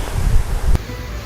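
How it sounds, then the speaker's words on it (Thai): A cool wind blows outdoors where charcoal is being made in a small kiln, a steady broadband rush with gusty buffeting on the microphone and no voices. "ลมบ่อยๆเย็น"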